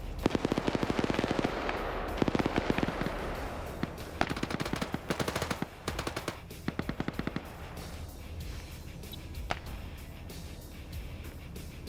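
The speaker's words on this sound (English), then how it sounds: "he's sniping everyone that comes into this warehouse" Dense rapid gunfire in an OFCRA PvP video game match, bursts of automatic fire and sharp rifle cracks in a warehouse, loud at first and then thinning into scattered distant shots.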